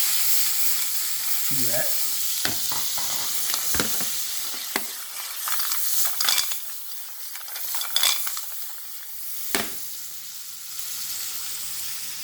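Mussels sizzling and frying in a hot pan, a steady bright crackle with occasional sharper pops and stirring clatter, close and loud, a brief voice near the start.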